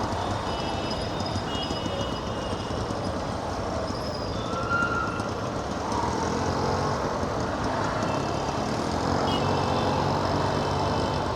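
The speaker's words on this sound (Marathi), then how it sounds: "इकडे थोडं ट्रॅफिक भेटलंच असं" Road traffic near the Mulund toll plaza on the way to Thane, heard from a moving motorbike: a continuous roar of engines and wind, with faint horn tones above it.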